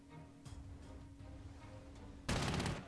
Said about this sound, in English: Go ahead and strafe.